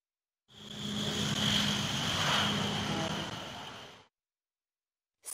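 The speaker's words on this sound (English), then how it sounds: "Airplane." An airplane sound effect from a children's vehicle puzzle toy plays a steady, broadband engine roar for about three and a half seconds, then cuts off abruptly.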